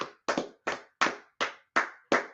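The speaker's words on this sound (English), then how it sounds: "Clap it up for class." A class clapping hands in unison, seven sharp claps in an even rhythm, close and loud, with no speech.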